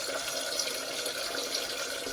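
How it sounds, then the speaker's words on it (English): Tap water runs steadily into a cooking pot being filled halfway for mac and cheese, a continuous close splashing rush with no speech. "I'm going to go ahead and turn on the water. We're going to fill up the pot."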